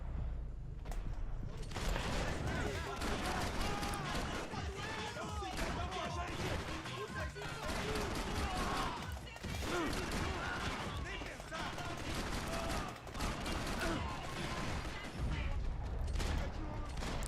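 Gunfire in the Max Payne 3 action game: dense, continuous shooting and crashing impacts fill the whole stretch, with someone talking excitedly over the constant barrage of shots.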